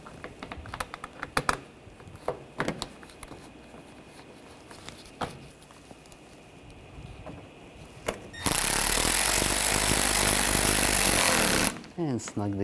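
A power tool drives screws into the front panels of a 2013-2022 Buick Encore during an AC condenser replacement, a loud steady whirring burst lasting about three seconds after scattered clicks and handling noises.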